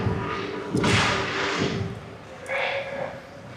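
A single sharp crack of an ice hockey puck shot during a varsity game at Carmel Skadium, ringing over hollow rink ambience, followed by a fainter knock about two seconds later.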